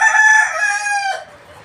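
A rooster crows once, loud and close, in a long drawn-out call that trails off, at a village farmhouse with buffalo and gardens nearby.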